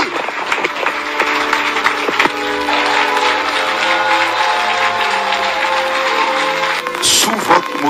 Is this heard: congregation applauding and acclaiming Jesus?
yes